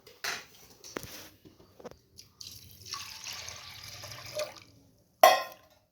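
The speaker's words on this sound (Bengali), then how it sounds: "এবার জল দিয়ে দিব।" Water poured into a pressure cooker holding chana dal, heard as short splashes and a trickling pour between brief drips and clinks, fairly close.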